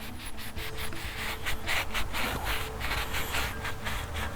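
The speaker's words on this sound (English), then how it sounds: "I'm going to take a rag and just kind of clean this up just a little bit" A rag soaked with brake cleaner rubs and scrubs over a diesel turbocharger's compressor cover, a steady close-up scratchy wiping that continues throughout.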